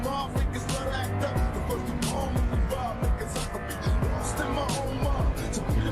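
A BMW M3 in the Assetto Corsa racing game drives on the Nürburgring, its engine revving up and down through repeated gear changes while someone talks over it.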